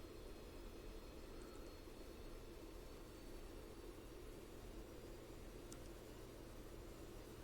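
The engine of a Bonanza F33A aircraft in a flight simulator gives a steady, faint, even drone with a hiss over it, unbroken and without talk.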